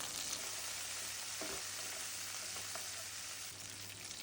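Mustard seeds, chana dal, cumin, chillies and garlic sizzling in hot oil for raw mango rice, a soft, even crackle with a couple of faint stirring knocks, quiet and without talk.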